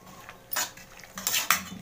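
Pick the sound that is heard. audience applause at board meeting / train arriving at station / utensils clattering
utensils clattering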